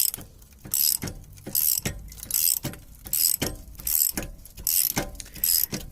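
Prying a rusted Toyota brake backing plate off its hub produces a rhythmic series of about seven sharp metallic clanks and grinding creaks, loud and close, with no talking.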